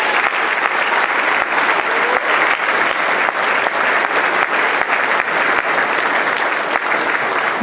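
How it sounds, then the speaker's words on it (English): An audience at a military NCO academy graduation ceremony applauds loudly and steadily, a dense sustained wash of many hands clapping from a large crowd with no pause, close and full throughout. "Let's give them all a round of applause."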